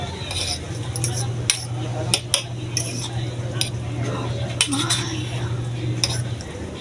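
Metal utensils clink and scrape against a pot or bowl while extra-spicy noodles are stirred, giving irregular sharp taps over a low steady hum.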